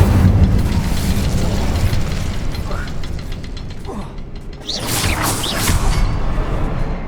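An Incendio fire spell in Hogwarts Legacy erupts with a whooshing burst amid mechanical clanks and game effects, loud and near, while a voice speaks over the action.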